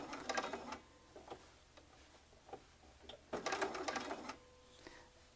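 A sewing machine stitches around a fabric scallop in short bursts of rapid mechanical ticking with pauses between runs, faint and close up.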